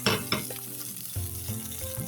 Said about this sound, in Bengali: দেখেন আমার হচ্ছে পেঁয়াজ রসুন গুলি কিন্তু আদা ভাজা হয়ে গেছে